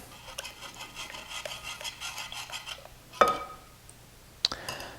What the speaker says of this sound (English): sometimes it helps to stir a little bit just to get things incorporated